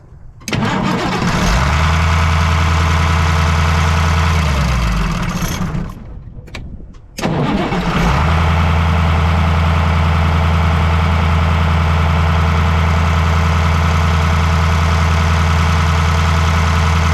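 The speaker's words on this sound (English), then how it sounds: "now we're going to fire the truck off and cycle the key on and off" A Caterpillar 3208 diesel truck engine cranks and fires, settles into a loud steady idle, cuts out briefly as the key is cycled, then restarts and idles on with a deep continuous rumble.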